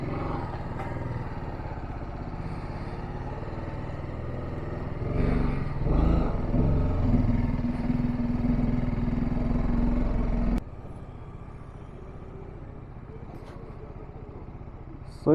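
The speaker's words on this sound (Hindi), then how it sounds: "बाइक का वार्म अप हो गया है" A TVS RR310 motorcycle engine runs with a steady, close rumble that swells mid-way, then drops abruptly to a quieter, lower drone as the bike pulls away in a hill-town setting.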